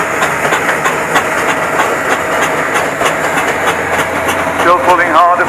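A steam traction engine hauling a heavy load uphill at a steam fair heavy haulage event, a steady loud laboring chug with rhythmic beats throughout, near and continuous.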